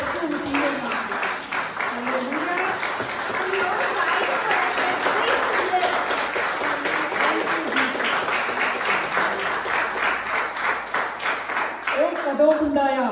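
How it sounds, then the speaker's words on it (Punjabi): A church congregation at a sermon breaks into loud, sustained applause, dense clapping from many hands continuing steadily with crowd voices mixed in before it trails off at the end. "ਇੱਕ ਵਾਰ ਜ਼ੋਰਦਾਰ ਤਾੜੀਆਂ ਯਿਸੂ ਮਸੀਹ ਨਾਲ"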